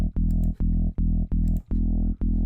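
Thick synth bass patch built in Vital with form scaling and frequency modulation from a third oscillator, a low sine multiplied into higher octave sines; five sustained, buzzy notes pulse in steady rhythm, separated by short gaps, loud and alone.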